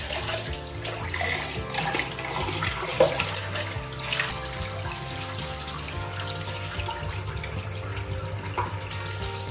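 Water runs steadily from a tap while a mattress item is washed, a continuous close splashing flow with a few small knocks and clatters along the way.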